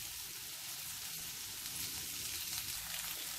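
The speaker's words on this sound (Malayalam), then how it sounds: "ഇത് നമുക്ക് നല്ലതുപോലെ ഒന്ന് വഴറ്റിയെടുക്കണം" Onion, green chili, garlic and ginger sauté in coconut oil with a steady, dense sizzle that holds even and close throughout, no voices present.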